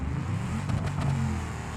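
A taxi in BeamNG.drive, fitted with an upgraded radiator, revs and accelerates steadily, a continuous motor roar with rising pitch, fairly close and moderately loud, no voices.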